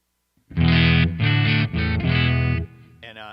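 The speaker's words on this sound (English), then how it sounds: "So you can see that I've got the British sound on. Really light distortion here." An Ibanez mahogany electric guitar with a Kent Armstrong humbucker in the bridge plays through a Joyo British Sound pedal set to light distortion, strumming several sustained chords in sequence before the sound drops off.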